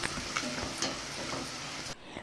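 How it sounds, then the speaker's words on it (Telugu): Onions and ginger paste frying with spices in a pan, a steady close sizzle with faint stirring scrapes throughout, cutting off sharply near the end. "ఆనియన్స్ పోపు వేసేసుకొని అందులోకి అల్లం పేస్ట్ వేసి బాగా వేయించుకుంటున్నా"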